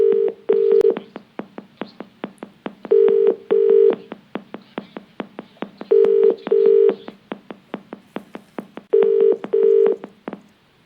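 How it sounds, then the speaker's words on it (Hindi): A telephone call is being placed, and a ringing tone repeats as paired electronic beeps every few seconds, interspersed with rapid clicking, loud and clear with no voices. "देखिए हम फोन मिला रहे हैं"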